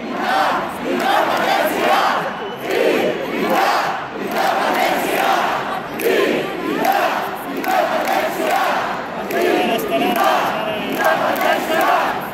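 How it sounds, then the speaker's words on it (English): A large Catalan crowd at a Barcelona human castle event chants for independence in rhythmic, surging unison, a dense roar of many voices that swells and falls steadily throughout. "The chant is, "We want independence." For the Catalan people."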